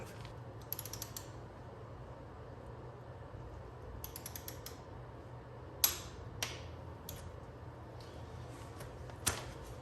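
Torque wrench tightening an Akrapovic slip-on exhaust on a BMW R 1250 RS motorcycle, bursts of quick ratcheting clicks followed by a few sharp clicks from the wrench, faint and close against a low background hum.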